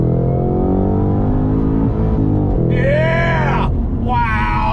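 A 2022 Cadillac CT5-V Blackwing's engine roars loud and close, climbing in pitch under hard acceleration before a quick no-lift upshift drops the revs and the engine pulls hard again, then a second shift.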